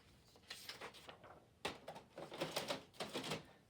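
A home printer feeds out a sheet of paper with a faint mechanical clatter of rapid rattling bursts, pausing briefly and then resuming in a quiet room.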